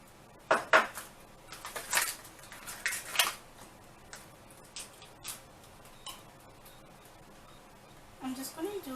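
Pink waffle batter being mixed with milk in a bowl, heard as scattered clinks and taps of a utensil against the bowl with quiet gaps between, and a voice speaking briefly near the end.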